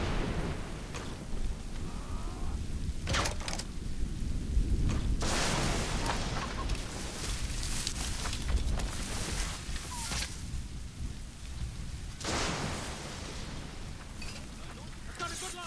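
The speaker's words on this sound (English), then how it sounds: "The storm's getting worse." Heavy rain and rumbling thunder from a storm in Assassin's Creed Rogue, a steady broadband wash with louder surges and cracks, running continuously with a voice speaking over it in places.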